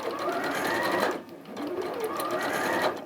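A domestic sewing machine, the 550 model, stitching a straight line along a top edge: a steady close whirring hum that briefly dips and then resumes.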